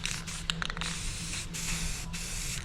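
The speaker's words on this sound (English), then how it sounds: "we're gonna go buck wild and just spray this with spray paint" A spray paint can hisses steadily onto a rusty metal ramp in a loud, close continuous spray, broken by a few short gaps and a quick series of stuttering releases early on.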